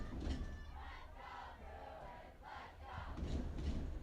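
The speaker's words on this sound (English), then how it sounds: "Crowd is hyped here tonight." Spectators at a varsity high school football homecoming game between Santa Clara and Los Altos cheer and roar in a sustained crowd swell, rising and falling over a constant rumble.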